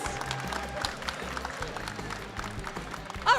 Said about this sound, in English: And another round of applause for all of our winners up here on the stage,